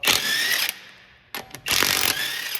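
A power tool whirrs loudly in two long bursts with a short pause and a couple of brief blips between, removing 22 mm wheel nuts from a 2017-2025 Honda Ridgeline, close up with no talking.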